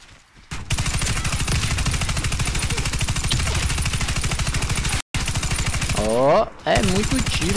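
M249 Para light machine gun firing in the shooter game Warface: loud, sustained rapid-fire bursts with one abrupt break midway, and a short voice sound cutting in near the end.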